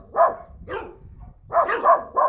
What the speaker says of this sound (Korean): 저번에 저 보고 짖었던 강아지 다시 한번 봐볼게요.